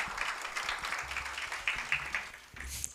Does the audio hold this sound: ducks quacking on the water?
no